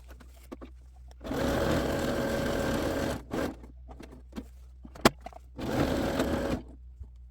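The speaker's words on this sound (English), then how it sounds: "finishing up the sewing" A sewing machine stitching a crafts masterboard runs in two sustained whirring bursts with a brief stutter between them, close and clear against a quiet room.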